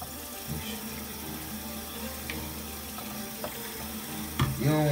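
Tap water runs steadily into a sink while dreadlocks are washed, a constant close splashing hiss with small knocks and a brief louder gush near the end.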